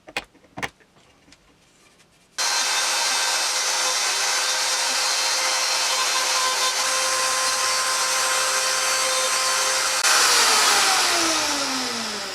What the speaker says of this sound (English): the rest I'm going to try to take off with this little small ball cutting bit with the Dremel.